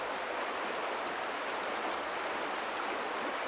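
Flowing water runs in a steady, even hiss in The Vanishing of Ethan Carter, a constant stream-like wash with no change in level and no voices.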